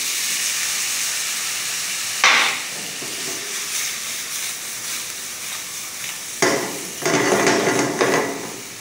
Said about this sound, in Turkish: Kreması çekene kadar sotelenme işlemimiz devam ediyor